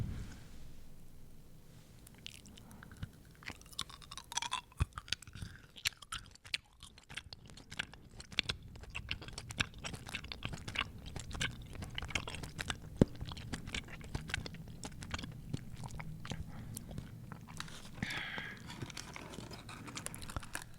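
Gumdrop candies chewed close to a microphone: soft, wet, sticky chewing and squishing with small crunchy clicks in an uneven rhythm, quiet and intimate, with no talking.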